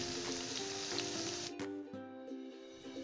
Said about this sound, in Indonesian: Langkah berikutnya kita goreng bawang ini dalam minyak yang sudah panas.